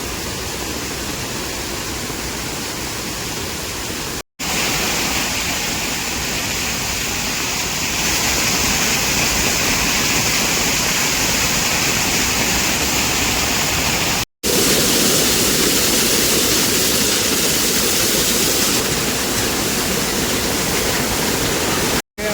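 A loud, continuous roar of rushing waterfall water fills the whole stretch, steady and dense, broken only by a couple of very brief cuts.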